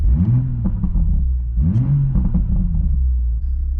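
A Toyota Supra engine in sport mode revs up twice in quick succession, a low throaty rumble rising and falling, close by with a steady idle underneath.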